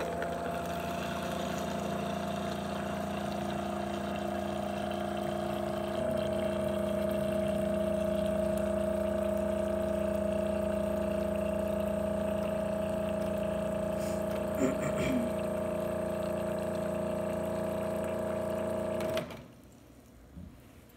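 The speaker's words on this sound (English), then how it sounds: "I got my towel in this cup in our water machine, because I'm not gonna boil the water." A household water machine hums in a steady motorized drone as it dispenses hot water into a cup, continuing for most of the clip and then cutting off near the end.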